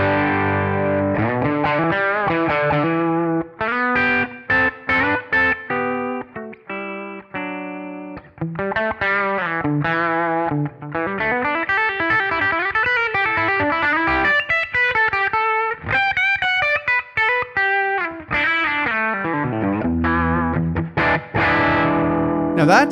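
Electric guitar played through a Kemper profile of a Fender Deluxe Reverb normal channel with gain on 7, loud chords and single-note lines with a slightly driven tone and a touch of reverb tail, continuous for over twenty seconds.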